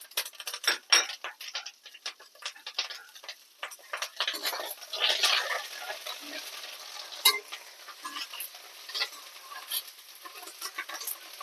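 Curry leaves and green chillies frying in a pan for a jackfruit-peel mustard curry. A steady crackling sizzle is stirred with a spoon, with irregular scraping and clinking against the pan throughout.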